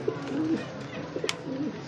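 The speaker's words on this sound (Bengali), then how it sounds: "বন্ধুরা আবার দেখতে পাচ্ছি এখানে আরও একজোড়া বিটুমা কবুতর" Soft cooing from a pair of white German Beauty pigeons, a few low, rounded coo phrases spread over a couple of seconds, close by, with faint background noise.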